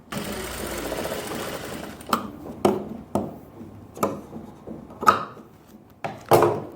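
A sewing machine stitching the neckline seam of a garment, heard as a continuous whirring run that is followed by several short separate bursts of stitching, close and fairly loud.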